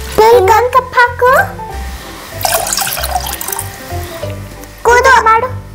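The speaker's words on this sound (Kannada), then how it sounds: "ಅದಕ್ಕೆ 2 ಕಪ್ಸ್ ವಾಟರ್ ಹಾಕ್ತೀನಿ." Water is poured into curd for masala buttermilk, a brief splashing pour between bursts of an adult and someone talking over it.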